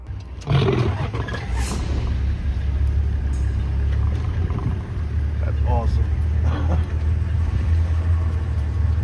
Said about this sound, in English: The driver backs the car up instantly as the lion starts to charge at them.